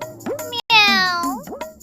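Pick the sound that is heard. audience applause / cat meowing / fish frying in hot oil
cat meowing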